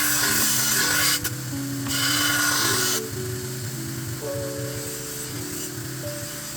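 A dropped bayonet with a missing tip has its bevel ground on a 1000 grit whetstone, giving close, continuous gritty rasping strokes with pauses and changes in pitch, while faint music plays in the background.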